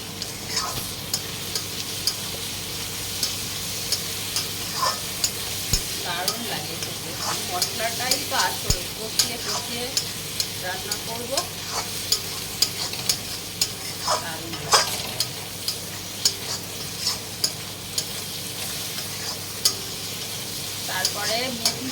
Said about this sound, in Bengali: টমেটোটা দিয়ে দেবো